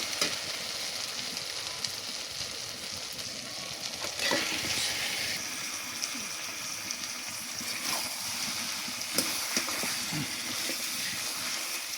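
Country chicken pieces hitting spiced oil in a pan as potato chicken curry cooks, a continuous moderate sizzle with bursts of crackle and stirring clatter, no voices.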